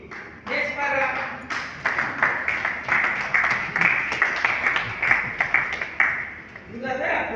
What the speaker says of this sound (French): Vous avez applaudi parce que c'est un élément qui consolide la paix